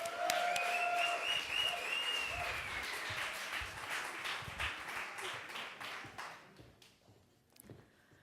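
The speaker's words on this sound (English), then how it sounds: "Please keep the applause going." Audience applause at a Moth StorySLAM storytelling event in Los Angeles, a dense wash of clapping that gradually thins and fades, with a few whistles early on and scattered final claps near the end.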